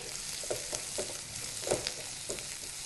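Onion pieces fry in hot oil for a capsicum tomato curry, giving a soft, continuous sizzle with faint stirring scrapes every half second or so, quiet and close, with no voices.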